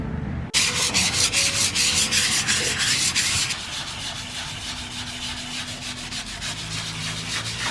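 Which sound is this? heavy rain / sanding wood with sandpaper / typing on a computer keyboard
sanding wood with sandpaper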